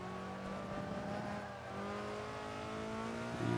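An Alfa Romeo Stradale 33 engine in Forza 5 revs steadily high, a whining, tonal drone that slowly shifts pitch and swells slightly louder near the end.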